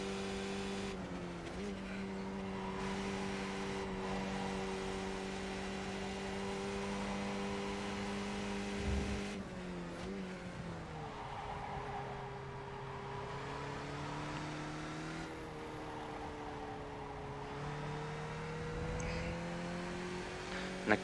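Race car engine in a sim racing video game, a steady droning whine that holds, dips through gear changes and climbs again as it accelerates, continuous and fairly loud.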